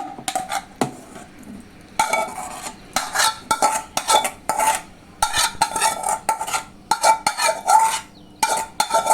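A spoon stirs chilli chutney ingredients with tomato in a pan, bursts of clinking and scraping strokes in uneven clusters separated by short pauses, close and moderately loud.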